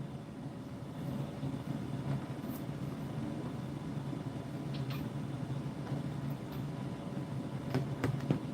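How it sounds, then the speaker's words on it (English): An HO scale model train runs steadily on a layout with a low mechanical hum and rolling rumble, and faint clicks and ticks now and then. "We will be running HO scale model trains on the layout."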